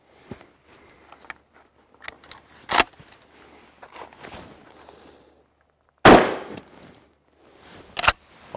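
A shotgun fires Federal Flight Control 8-pellet 00 buckshot outdoors during patterning. Three loud, sharp blasts ring out at irregular intervals, the middle one strongest, between quieter thumps and shuffling.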